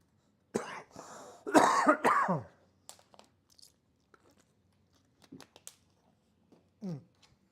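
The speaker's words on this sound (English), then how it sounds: "Sorry about the cough, guys." A person coughs several times in a harsh cluster, followed by a few quieter throat sounds and small clicks in an otherwise quiet room.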